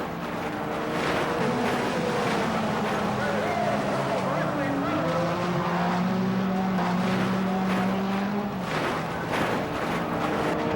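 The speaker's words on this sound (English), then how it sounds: "This car flips about 17 times," A sprint car engine roars loudly and continuously with rising and falling pitch during a race, mixed with crashing and scraping as the car flips repeatedly, under a commentator's voice.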